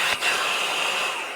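Wind Gallop air inflator running in deflate mode, a steady loud whirring hiss of motor and airflow, close and alone, with a brief dip near the start.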